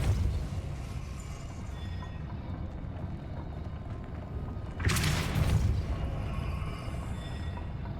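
The Depulso spell is cast in the video game Hogwarts Legacy, a sudden whooshing blast bursting out of a low rumbling backdrop midway through, then fading back into the ambient game hum.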